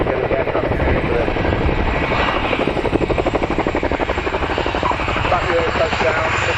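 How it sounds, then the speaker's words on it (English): A helicopter at an airshow makes a running landing and touches down. Its rotors thump in a loud, steady, rapid beat close by, and a voice speaks over it. "We'll run the aircraft straight into the ground like this."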